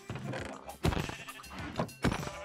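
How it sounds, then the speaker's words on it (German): Minecraft sheep bleat in a video game, several short bleats mixed with thumping hits, close and fairly loud. "Fuchs, du hast alle Schafe getötet"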